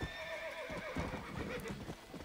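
A horse in Red Dead Redemption whinnies clearly while its hooves clip-clop in a steady trotting rhythm, fairly quiet and with no talking over it.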